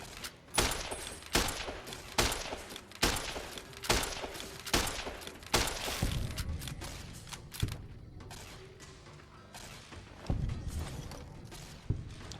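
Rapid bursts of laser gunfire from a companion aimed at a scorpion in Fallout: New Vegas, a series of sharp, loud shots in quick clusters, thinning toward the end.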